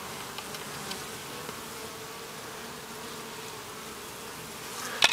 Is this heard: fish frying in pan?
no